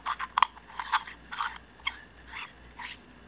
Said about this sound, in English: let's thread this on here.